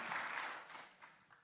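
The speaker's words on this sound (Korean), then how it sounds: "힘차게 감사하며 박수하겠습니다." Brief burst of applause from a congregation at a Korean Presbyterian church's ordination, installation and retirement thanksgiving service, loud at first and then tapering off over about a second and a half.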